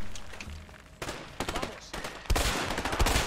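Loud, close bursts of rapid automatic gunfire in a first-person shooter video game, firing in several separate volleys with short gaps between them.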